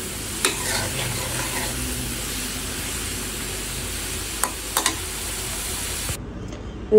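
Food frying in a pan with tomato sauce nearby: a continuous close sizzle with a few sharp utensil clicks, cutting off abruptly near the end.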